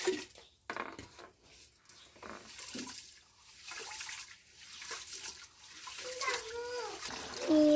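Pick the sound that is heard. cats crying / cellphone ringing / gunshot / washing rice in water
washing rice in water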